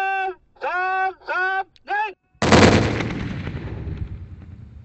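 A single heavy detonation from destroying cluster munition bomblets in Laos, a loud boom with a long rumbling decay, preceded by a speaking voice.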